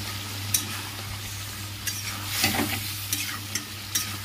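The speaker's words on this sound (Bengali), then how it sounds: "মশলাটা দিয়ে দিলাম। একটু ভাজা ভাজা হয়ে গেলে" Spice masala stir-fried in a pan, a steady close sizzle with scraping stirs and a few sharp clinks of a spoon against the metal, no voices.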